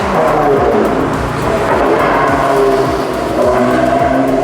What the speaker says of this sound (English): look, a Lotus